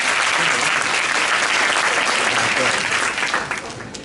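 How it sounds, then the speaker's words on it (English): A school audience at a bilingual class showcase breaks into loud, sustained applause, a thick continuous roar of clapping that thins and fades near the end. "Let's give her a big applause."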